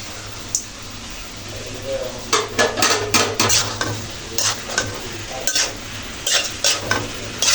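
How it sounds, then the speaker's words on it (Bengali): Fried vegetables stirred into cooked tomato and spices in a kadai for a rui fish curry, with repeated metal-on-metal scraping and clanking over a soft sizzle, close and fairly loud in bursts. "ভেজে রাখা সবজিগুলো অ্যাড করে নিলাম"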